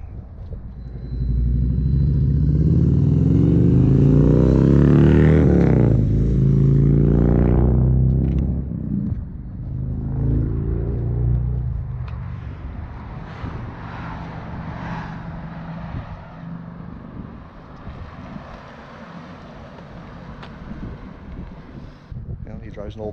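A newly bought Buick car accelerates hard with a loud, rising engine roar and tire noise, then settles into a quieter cruising rumble with wind buffeting.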